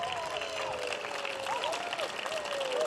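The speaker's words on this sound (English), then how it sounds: "give you all a big round of applause" A hall audience at a Cornell Chimes sesquicentennial celebration breaks into sustained applause, a steady wash of clapping with a few raised voices over it.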